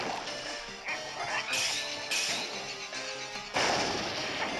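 A cannon fires in the Kirby: Planet Robobot video game, with booming blasts and crashing impacts over busy game music and effects, loud and close, with someone talking over it.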